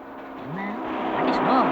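A big vehicle approaches, its engine swelling louder over a couple of seconds, with a voice partly overlapping the rising rumble.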